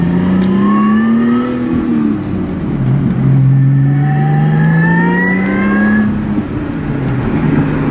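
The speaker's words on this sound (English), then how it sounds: "This thing's got an incredibly smooth engine noise." A Lotus Evora S engine revs on a test drive, heard from inside the car as a loud, smooth tone that climbs steadily, drops back, then climbs again through repeated gear pulls, with no voices over it.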